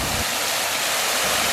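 Outdoor fountain pouring water in a continuous, dense hiss and splash, loud and close throughout with no pauses or voices.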